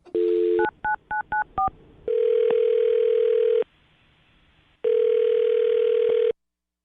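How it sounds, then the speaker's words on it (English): A quick run of touch-tone beeps as a number is dialed, then two long ringback tones separated by a pause, clear and close. "I'm going to dial her phone number right now"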